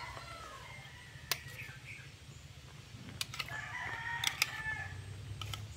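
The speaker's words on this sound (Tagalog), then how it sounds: "Maganda yung background ko guys kasi may mga manok, may mga ibon" Rooster crows ring out against steady outdoor ambience, with chickens clucking and sharp bird calls scattered throughout at moderate distance.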